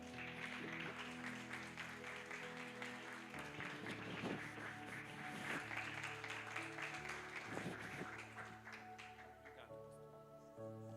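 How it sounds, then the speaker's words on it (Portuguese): A church congregation claps over sustained instrumental music, a continuous patter of many hands blended with held tones from the band, steady and fairly full throughout. "Aplaude a Jesus."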